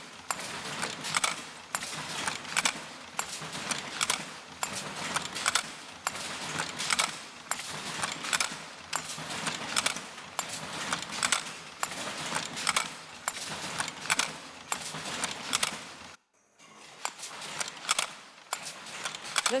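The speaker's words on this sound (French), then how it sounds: "ce que vous entendez, c'est le métier jacquard qui est tout à fait en haut" A Jacquard loom clatters away in a rapid, repeated rhythm of sharp mechanical clacks and rustles, steady and fairly faint as if heard from a distance, with a brief pause near the end before the beat resumes.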